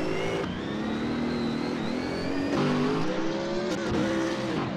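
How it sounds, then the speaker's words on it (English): Loud race cars at a Race of Champions event driving on track, engines roaring and shifting pitch as they accelerate and pass, with a brief tire squeal and no talking. "All right, so both cars out on track again."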